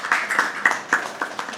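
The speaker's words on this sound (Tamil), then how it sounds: "உற்சாகமான கரகோஷம்." A debate audience claps enthusiastically, giving a short burst of close, rhythmic applause without any talk.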